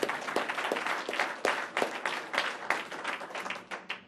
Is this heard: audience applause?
yes